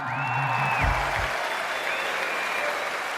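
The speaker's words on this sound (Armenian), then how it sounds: "Ատեն լավ բարձր ծափերից լսենք ու անցնենք առաջ" Loud applause from an audience at a live concert in Charentsavan, a dense steady clapping that fills the whole clip, with brief low musical tones at the start.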